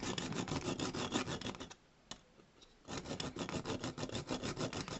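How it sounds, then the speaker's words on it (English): A hacksaw cuts open a metal bean can with a fast, steady rasping stroke rhythm, close and fairly quiet, pausing briefly midway before resuming; no one speaks. "So all I'm going to do now is take a hacksaw to this and open her up."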